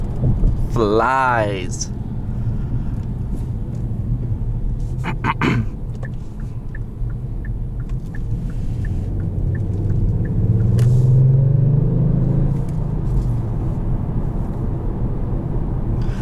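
A 2020 Kia Stinger GT1 engine accelerates as a deep low rumble that swells and rises in pitch under someone talking, with a few brief clicks and whooshes along the way.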